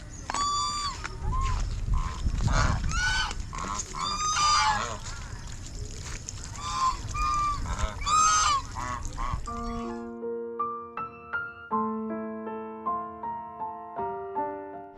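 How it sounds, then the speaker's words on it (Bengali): Geese honk and call repeatedly near a resort in the Sundarbans, loud and close, their honks overlapping for about ten seconds before plucked musical notes take over. "প্রচুর কিন্তু রাজহাঁস আছে"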